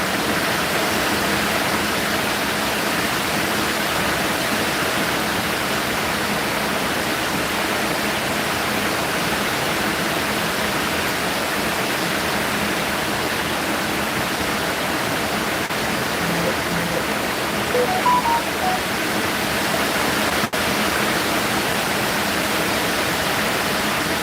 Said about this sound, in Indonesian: Jadi hujannya itu masih kedengaran ke dalam.